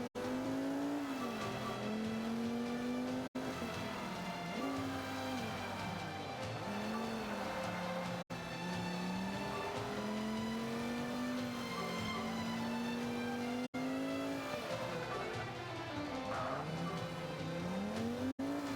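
A car in a racing video game drives continuously, its engine tone rising and falling through gear changes with brief tire squeals, loud and close throughout.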